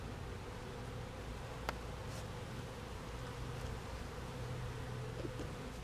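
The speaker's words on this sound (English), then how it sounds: "we'll get a half a cup of bees" A steady, dense buzz of honey bees in a hive hums throughout, continuous and fairly close, like many bees droning together with a faint rustle underneath.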